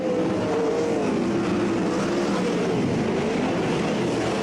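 World of Outlaws sprint cars roar around Parramatta City Raceway during a 2004 night A-main, a dense, continuous engine drone with rising and falling pitch as the pack races past, loud and steady throughout.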